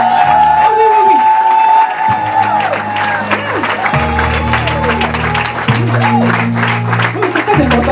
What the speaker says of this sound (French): c'est des acclamations plus fortes que ça